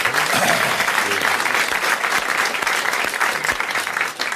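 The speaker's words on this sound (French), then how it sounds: "vous applaudissez Monsieur Marandon de Grande-Sainte" A studio audience at a 1985 French television game show gives a contestant a loud, sustained round of applause, with some voices and crowd noise mixed in beneath the clapping.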